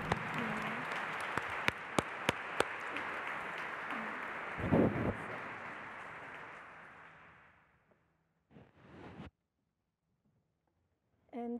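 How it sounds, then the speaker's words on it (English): Applause from a forum audience fills the first eight seconds, then fades out, followed by a couple of brief sounds and the start of a voice at the end. "give a round of applause to everybody"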